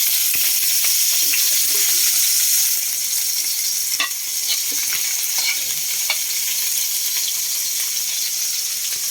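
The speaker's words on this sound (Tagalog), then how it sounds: "Magigisa muna tayo mga kabuko ng sibuyas at saka kamatis" Onions sautéing in a pan with tomato for a quick monggo dish, giving a steady loud sizzle with scraping stirs and clicks of the spatula throughout, no voices over it.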